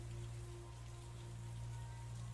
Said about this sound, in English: the rain could be a tad quieter due to the thunder